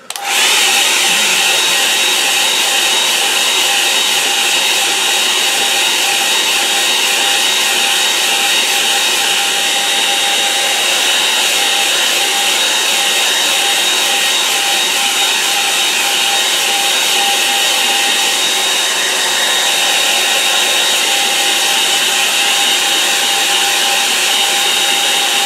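A hair dryer blows steadily and loudly for the whole stretch, drying a watercolour seascape painting, a constant whooshing whine with no pauses and no talk.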